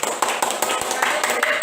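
Students in a classroom clap for a presenting group, a short burst of close, uneven hand claps with audible individual slaps and some voices mixed in.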